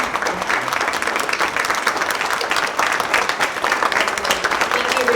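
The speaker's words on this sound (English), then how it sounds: "I'd like to take this moment to have all the artists in the room please stand so that we can applaud you" An audience claps for the artists at an art weekend event, a thick, sustained round of applause from many hands filling the room. Some voices mix into the clapping.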